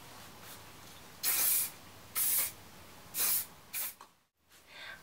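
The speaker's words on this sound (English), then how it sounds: "using my System Extra Hold hairspray for all hair types, just going to spritz this through the hair and across the fringe" System Extra Hold hairspray hisses in four short bursts as it is spritzed through hair and a fringe, close and fairly quiet, followed by faint rustling.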